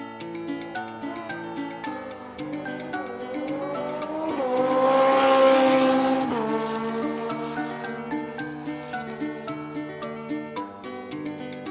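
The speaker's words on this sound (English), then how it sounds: "Motorcycle." A motorcycle engine roars past on a street, building to a loud peak midway then fading, with a rising and falling tone and no voices.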